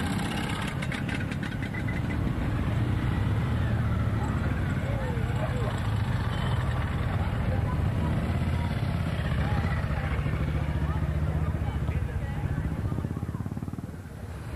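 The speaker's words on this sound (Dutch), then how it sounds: "publiek genoot van al dit prachtige motorgeweld" Steady massed motorcycle engines rumble and idle at a Queen's Day parade in 2002, with a continuous loud drone and occasional revs, voices faintly under the noise.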